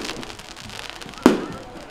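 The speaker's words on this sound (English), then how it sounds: "Fireworks," New Year's Eve fireworks at a beach resort celebration: a steady patter of distant crackles, then one sharp, louder bang near the middle, with a low hum of crowd and ambience underneath.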